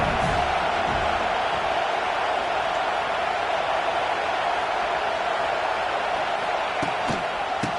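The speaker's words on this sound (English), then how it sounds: "This crowd ready to make its presence known." A stadium crowd in the college football video game CFB26 roars in a dense, continuous wash of cheering that stays loud from start to finish, with a few faint thumps near the end.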